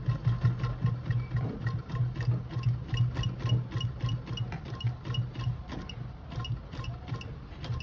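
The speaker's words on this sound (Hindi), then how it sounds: "चलो सिलाई मारना स्टार्ट करते हैं।" Stitching the neckline of a baby frock, a sewing machine hums with a steady rapid ticking pulse of the needle, close and continuous throughout with no voices.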